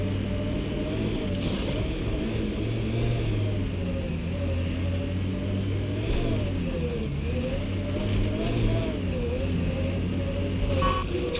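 A vehicle drives in Mass Effect Andromeda with a steady, close engine drone that rises and falls in pitch. It hums on without a break, and no one speaks over it.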